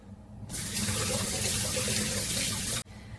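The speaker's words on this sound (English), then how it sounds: "Let me just wash my hands." A kitchen tap runs steadily while hands are washed beneath it, a near, even rush of water that starts abruptly, holds for a couple of seconds, then cuts off sharply.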